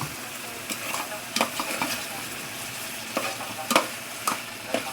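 Vegetables sizzle in hot oil in a pan while a utensil stirs them, scraping and clattering in irregular bursts over a constant frying hiss, close and moderately loud.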